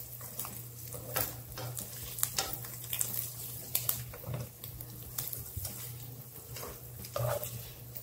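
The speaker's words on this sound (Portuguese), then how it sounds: "tá aqui fritando o ovo" An egg fries in a pan on a portable electric stove: soft, steady sizzling with occasional crackles and pops over a low constant hum.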